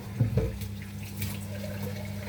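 Water from a tap runs into a container, a steady soft hiss and trickle at close range after a couple of brief knocks at the start.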